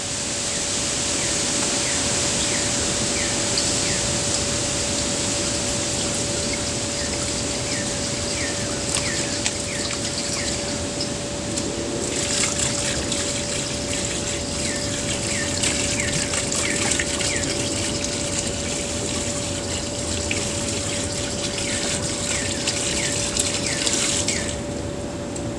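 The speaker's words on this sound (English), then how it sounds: "Okay, and I'm going to put about a gallon of water." About a gallon of water poured into an empty water pan in a smoker before cooking beef brisket, a steady continuous gush and splash running for the whole stretch without pause, close and fairly loud, with faint birds outdoors.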